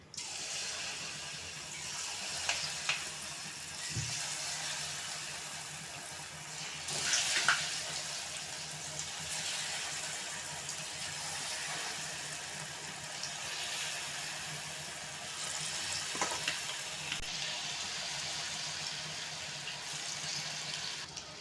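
Batter-coated paneer pieces frying in hot oil for chilli paneer give a faint, steady sizzle and bubbling hiss, with a few soft clinks and brief swells as pieces are added.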